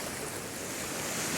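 Ocean surf washes steadily onto the shore, a continuous broad roar of breaking waves mixed with wind buffeting the microphone, with no voices.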